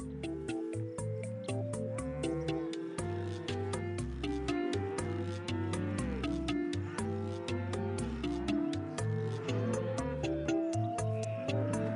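Cow moos from the Putt-Putt video game sound over a busy, steady backdrop of game music and effects, with no talking.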